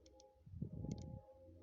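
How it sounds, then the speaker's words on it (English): Mouse click sound effects from the KineMaster video editor, a few faint, short clicks in separate pairs over a quiet low hum. "Now look at the mouse clicks."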